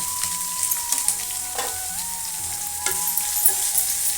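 Onions frying in a pan for a masala dosa potato filling, a steady close sizzle with a few stirring scrapes and no talking.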